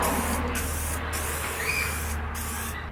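WD-40 sprayed straight onto a car's body, a steady, close hiss that runs unbroken for about three seconds, with no talking.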